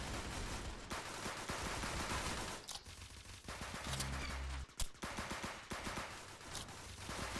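Rapid gunfire from Roblox Arsenal, a string of close shots crackling and rattling almost nonstop across the whole stretch, with brief pauses between bursts.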